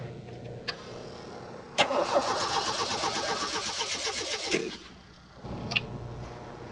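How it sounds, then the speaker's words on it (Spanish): Fuel-injected car engine cranked with the starter for about three seconds in a steady rhythmic whir, catching briefly before cutting off, followed by another short start. "Le procedemos a dar arranque al motor"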